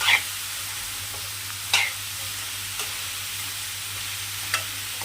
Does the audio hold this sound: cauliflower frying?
yes